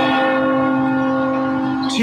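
A large bell rings with a single sustained, resonant toll, its deep hum and overtones hanging loud and steady before a brief sharp sound at the very end.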